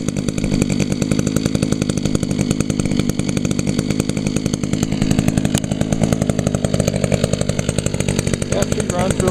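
A fogged, slightly smoky Echo chainsaw engine runs steadily at a loud, even, buzzing idle with a rapid regular pulse throughout.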